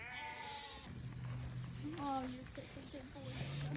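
Hair sheep bleat several times in a farm yard, a couple of wavering calls close by with other animal noise and faint voices in the background.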